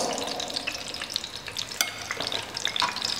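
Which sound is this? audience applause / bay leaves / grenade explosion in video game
bay leaves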